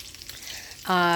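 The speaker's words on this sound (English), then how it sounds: "I'm pan frying them." Small homemade meatballs of ground beef, milk, flaxseed, breadcrumbs and egg sizzle in a frying pan, a brief close sizzle that suddenly turns louder and brighter near the end.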